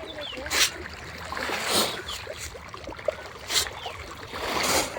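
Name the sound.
water sounds at a village fish farm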